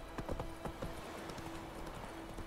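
Horse hooves walking along a road in The Witcher 3: Wild Hunt, an even clip-clop of hoofbeats against a steady ambient bed, fairly quiet and without talk.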